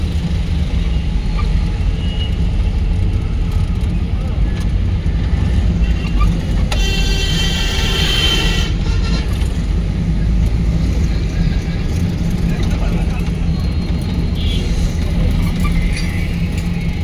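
A car driving on a road toward Comilla, Bangladesh, with a learner at the wheel after four or five days of practice, gives a steady, loud engine and road rumble that runs throughout, with a brief brighter swell midway.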